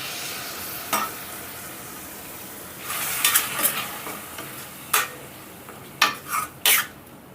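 Tomato pulp goes into a pan of drumstick tomato curry, giving a soft, steady sizzle with several sharp clinks and scrapes of a spoon against the pan, clustered toward the end.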